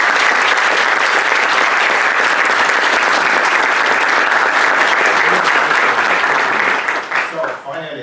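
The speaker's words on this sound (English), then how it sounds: "Please let us applaud Professor Angelo Bassi." Sustained applause from a large audience at an academic lecture fills the room, dense and steady, before tapering off near the end.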